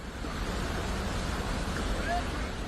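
Swollen floodwater from a nala during heavy monsoon rain in Chamoli, Uttarakhand, roars as a loud, continuous broadband rush, close and steady throughout with no clear breaks.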